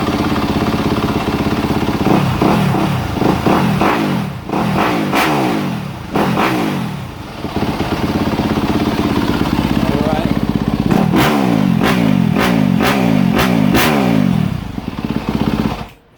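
A 2019–2023 Yamaha YZ250F dirt bike, recently worked on with a valve adjustment and top end, runs steadily to warm up, its engine loud and close with repeated throttle blips and revs over a continuous idle, while a person talks alongside.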